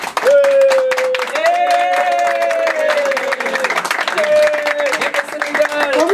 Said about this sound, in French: Allez, applaudissez.